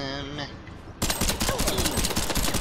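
Rapid bursts of gunfire from the Worms W.M.D. video game, a dense crackling volley that starts abruptly and keeps going, mixed with voices and tonal game sounds before it.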